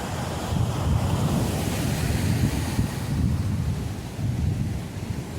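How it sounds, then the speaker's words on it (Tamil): Ocean waves wash steadily onto Kappil Beach in Varkala, a continuous loud roar of surf with gusting wind buffeting the microphone and no voices. "இதான் வந்து கப்பில் பீச்."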